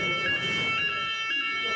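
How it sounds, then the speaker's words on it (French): A siren is tested in a promotional setting, giving a wavering electronic tone that pulses in short bursts, somewhat distant and mixed with background murmur. "une sirène qui fonctionne bien"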